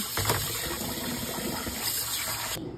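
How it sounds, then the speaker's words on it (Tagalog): Water pours steadily into a pot of coconut milk, a close, continuous gushing splash lasting nearly three seconds before cutting off abruptly. "So, nag-add kami ulit ng water."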